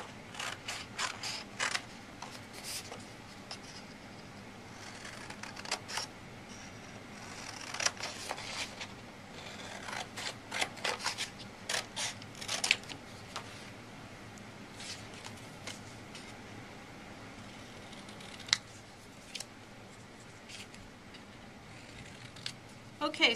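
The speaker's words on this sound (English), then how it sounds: "So I'm just going to cut them out." Scissors snip out small racing motif pictures in quiet, scattered clusters of close, crisp cuts, with pauses in between and some soft rustling and handling sounds.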